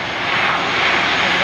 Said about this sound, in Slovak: A práve vidíte veľmi strmý zostupný uhol lietadla Spartan, ktoré bude nasledované pristátím na minimálnu plochu s veľmi krátkym výbehom.